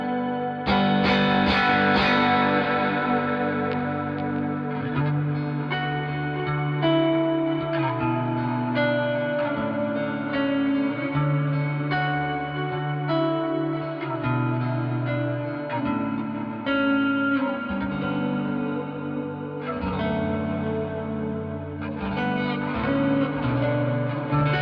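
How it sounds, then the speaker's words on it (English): Clean electric guitar through a Quad Cortex worship patch: chords and notes ring out with a wet wash of delay and reverb, sustaining and blooming into long decaying tails, played alone. "a little bit of delay and reverb"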